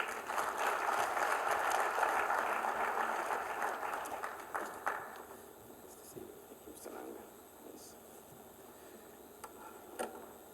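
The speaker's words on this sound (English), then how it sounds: "I'd like us to give a round of applause to Honorable Francis Gatare" A conference audience at the Kwita Izina 2016 conservation event opening applauds Honorable Francis Gatare with a dense round of clapping that fades after several seconds into a few scattered claps.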